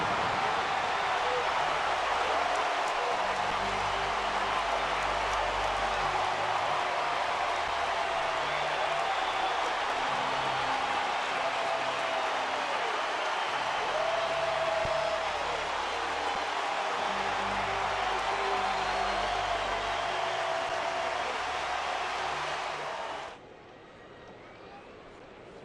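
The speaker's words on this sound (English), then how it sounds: "There's number 257, and listen to the crowd." A baseball stadium crowd roars for Ichiro's record-tying 257th hit in a Mariners game: a loud, dense, sustained roar holding steady for over twenty seconds before dropping off abruptly.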